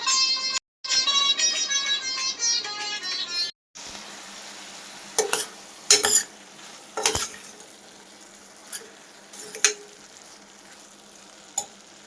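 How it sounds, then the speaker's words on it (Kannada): Whole spices for tempering sizzle in hot oil in a kitchen pan, starting with a dense crackling burst, then a quieter fry broken by several sharp scraping stirs of a spoon against the pan. "ಕಾಳೊಂದು ಒಗ್ಗರಣೆ ಮಾಡಿದ್ದೀನಿ"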